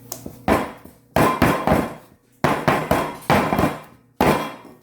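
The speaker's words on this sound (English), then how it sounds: "knock some of the air bubbles out of there" Cake pan of pound cake batter tapped against a counter to knock out air bubbles, a series of about ten sharp, loud, close thumps in uneven pairs and groups, with no talk.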